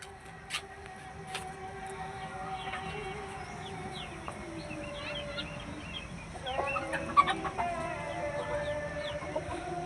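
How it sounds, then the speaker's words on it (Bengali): Chickens and roosters on a rooftop farm, with repeated clucks and short calls scattered across the clip and louder bursts near the end, over a low background hum. "এই যে দেখেন ছাদের উপরে মুরগির খামার করেছে"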